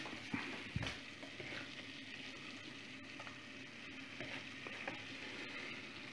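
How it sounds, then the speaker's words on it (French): Flour being stirred into a pan for lasagne sauce, producing a steady soft sizzle with repeated scraping stir strokes and a few sharper knocks over low heat, continuous and close. "on touille sans arrêt pour que ça prenne sans attacher au fond"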